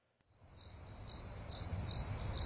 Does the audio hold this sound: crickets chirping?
yes